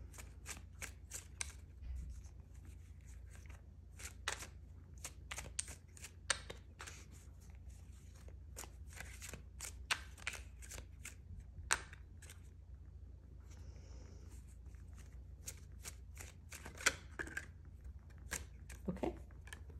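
Tarot cards shuffled by hand during a card reading, a quiet run of crisp riffling and snapping bursts repeating through the whole stretch, close up with almost no talk.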